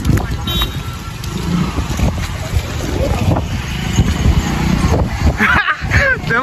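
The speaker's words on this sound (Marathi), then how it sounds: "पोलीसची गाडी बी आली" A police car driving past near a flooded river in Takalghat, a loud wash of road and engine noise mixed with wind buffeting, with a short horn-like toot near the end and voices talking underneath.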